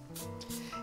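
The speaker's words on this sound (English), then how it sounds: "Il-spray li qed nuża huwa spray tal-avokado" A can of avocado oil cooking spray fires in a short burst onto a baking dish for brownies, a brief, close hissing spray of under a second.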